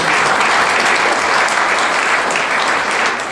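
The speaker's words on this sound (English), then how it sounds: "give them a round of applause" A crowd claps loudly and continuously, a dense wash of applause that barely varies before tapering a little at the end.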